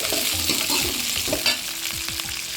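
Chilies and curry leaves sauté in a pan under a continuous close sizzle, while a spatula scrapes and stirs in several quick strokes. Nobody speaks.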